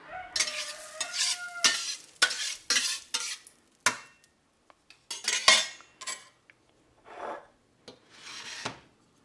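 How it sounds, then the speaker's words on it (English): Butter sizzles in a frying pan as it is spread around with a utensil, close scraping and stirring strokes coming in short bursts with a soft fry beneath, no talking. "Right now I'm going to spread that butter around the fry pan a little."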